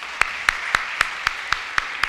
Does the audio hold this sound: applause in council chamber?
yes